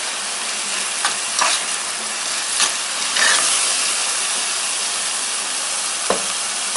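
Alexandrian-style liver frying in a pan with cumin, stirred now and then, giving a steady loud sizzle with a few sharp scrapes and knocks of the spoon, no talking.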